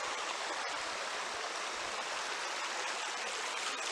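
Stream water flowing in rural Jamaica, a soft continuous rushing hiss that stays steady throughout without breaks, with no talk.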